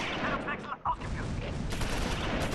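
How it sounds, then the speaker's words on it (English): An artillery barrage in the World War II video game Close Combat IV, a dense, continuous rumble of explosions and gunfire filling the whole clip, loud and noisy, with a voice talking over it. "Artillery's ready. We're going to send it."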